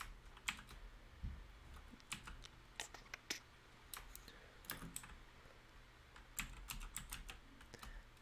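Rapid, irregular clicking of keys on a computer keyboard, close and fairly quiet, with short bursts and brief pauses between them.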